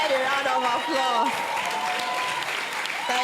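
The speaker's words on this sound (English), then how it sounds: "Please give my husband a round of applause." A conference audience gives a steady round of applause at a panel session, with a voice speaking over the clapping throughout.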